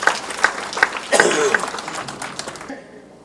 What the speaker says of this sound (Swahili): tumpigie makofi mzee wa Georgia anapokuja.